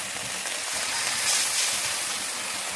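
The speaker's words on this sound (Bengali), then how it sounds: "জল দিয়ে দেবো" Water is poured into spice paste of dried chilli and ginger frying in a pan for a Bengali kata chochori dish, giving a steady broadband hiss and sizzle that swells slightly midway.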